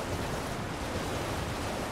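A waterfall in Elden Ring produces a constant, broadband rushing roar, steady and moderately quiet, with no voices over it.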